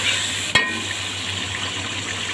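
Spice paste stir-fried in a pan for bhuna khichuri gives a steady, close sizzle with one sharp clack of a utensil against the pan partway through.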